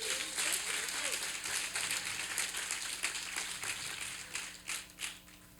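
Applause from a church congregation during a Spanish-language sermon, a dense steady wash of clapping that fills the whole stretch, with voices mixed in and a few louder claps near the end.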